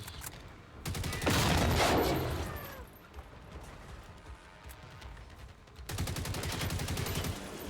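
Machine gun fire from an enemy tank in the video game Generation Zero, loud bursts of rapid shots at the start and again near the end, with a rumbling crash and quieter ambient battle noise in between.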